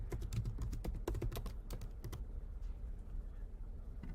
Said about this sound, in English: I would then type in the company Connect